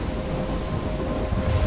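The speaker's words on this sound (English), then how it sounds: "I'm trapped in a storm?" Thunderstorm in the video game Life Is Strange, a heavy rumbling roar of thunder with steady rain washing underneath, loud and continuous with no talking.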